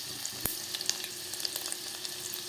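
Garlic fries with curry leaves and popped mustard seeds in hot oil for a North Karnataka peanut saaru, giving a close, steady sizzle dotted with sharp crackles and pops.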